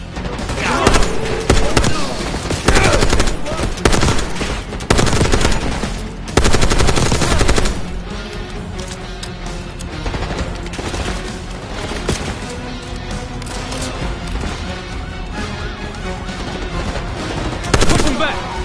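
Black Ops 6 campaign combat: loud, dense bursts of machine gun fire and other gunshots, rapid and sustained, with explosive impacts, some heavy and near, others lighter, and shouted voices in places among the shooting.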